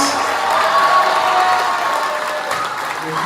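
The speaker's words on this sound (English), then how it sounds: "give another big round of applause for all 3 of our seniors" A gym crowd at a boys' prep basketball game applauds the three seniors and their families, sustained dense clapping with some cheering from the stands.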